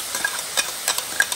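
Garlic and ginger sizzle in a pan at the start of a shrimp and snow pea stir-fry, a soft steady hiss with a few quick scrapes of stirring, close and brief.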